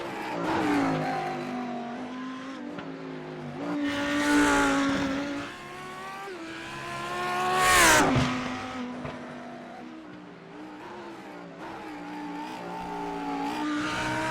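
A GT3 race car at Bathurst coming down the mountain, with loud engine revs rising and falling through repeated gear changes and a sharp peak as it passes close, then it keeps accelerating away.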